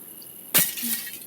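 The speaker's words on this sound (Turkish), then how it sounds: "Camı kır." Glass window breaking in the video game Hello Neighbor, one sudden sharp shatter followed by a brief tinkling of falling pieces.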